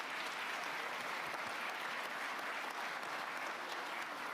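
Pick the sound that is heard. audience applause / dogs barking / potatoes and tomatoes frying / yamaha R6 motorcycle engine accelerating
audience applause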